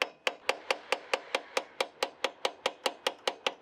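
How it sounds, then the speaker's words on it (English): A hammer taps the stuck fuel rack of a diesel engine in about sixteen quick, evenly spaced metallic strikes, each a sharp close knock with a short ringing tail, steady rhythm throughout. "give it a little tap with a hammer to bounce it back"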